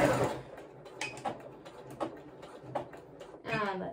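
Sewing machine zigzag stitching elastic in place on a pair of shorts, a run of close, rhythmic mechanical stitch bursts with short pauses between them, with a voice speaking over it.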